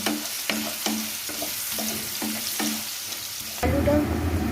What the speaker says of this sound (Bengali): এই আলুটাকে লাল করে ভেজে নেব।